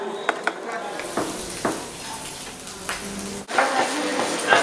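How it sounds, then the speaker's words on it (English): An egg fries in a pan as it is turned over, giving a steady sizzle with scraping utensil and pan clatter, plus a brighter burst of sizzling near the end. "as I'm turning the egg over"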